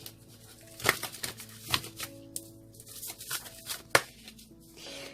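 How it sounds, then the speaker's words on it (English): Angel oracle cards being shuffled by hand, a run of soft papery riffles and taps coming close together with faint background hum and no talking. "One more shuffle, they say."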